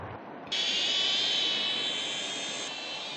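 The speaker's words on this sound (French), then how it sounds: "ces drones peuvent atteindre jusqu'à 50 km/h et s'envoler à une centaine de mètres" A small drone lifts off in a backyard, its high whirring rotors starting abruptly after a quiet moment and then holding a loud, steady whine as it flies nearby.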